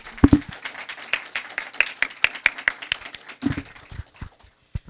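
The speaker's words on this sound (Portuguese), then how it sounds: "vamos bater palmas para a nossa convidada" Applause from a small audience welcoming a guest speaker at a business talk, heard as scattered, uneven claps with distinct close individual hits that thin out toward the end.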